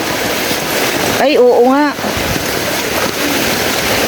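Strong rushing water of a mountain stream pouring over a flooded mountain road, a loud continuous roar heard up close, with a short exchange of voices partway through.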